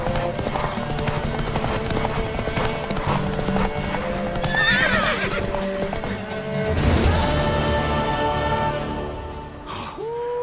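Hooves clip-clop rapidly as a horse gallops in The Witcher 3, with a bright whinny partway through and another neigh near the end, all set against a steady game soundscape.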